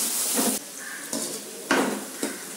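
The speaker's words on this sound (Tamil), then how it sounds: "இதில் பீன்ஸு, கேரட், கேப்சிகம் எல்லாம் போட்டு நல்லா ஒரு ஜஸ்ட் ஒரு 5 மினிட்ஸ்க்கு வதக்கிடலாங்க" Beans, carrot and capsicum sautéing in hot oil in a pan, with a soft sizzle broken by a few sharp clinks and scrapes of a utensil against the pan.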